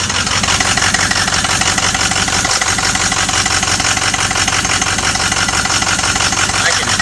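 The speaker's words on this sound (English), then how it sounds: "I'm hearing some popping. Hang on, let's listen. Oh, that's leaking exhaust" A car engine idles loudly and steadily up close, with a rapid ticking, puffing rhythm like an exhaust leak popping throughout.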